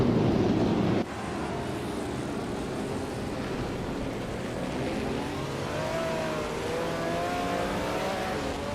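A 1950 BRM Type 15 race car engine in a racing video game drones steadily at high pitch, holding a sustained wail with slight rises, after a louder opening second.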